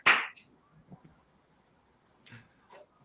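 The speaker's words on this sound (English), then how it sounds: "I'll make the noisy clap." A single sharp hand clap opens at close range, loud and crisp, followed by faint quieter taps and near silence.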